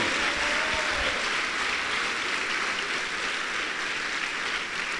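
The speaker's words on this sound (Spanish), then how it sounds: "Del aplauso al Señor." A church congregation bursts into sustained applause during a worship service, a dense, even wash of clapping that fills the room from start to finish with no voices.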